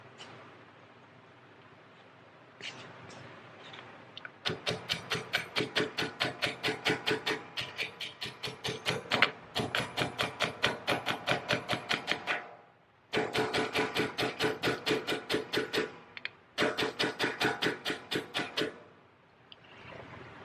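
Key stock is tapped into place on an electric burnishing polishing machine, with long runs of rapid, evenly spaced metallic taps in several bursts separated by short pauses, close and fairly quiet.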